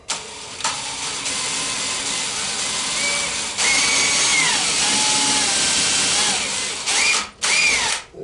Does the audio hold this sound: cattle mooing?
no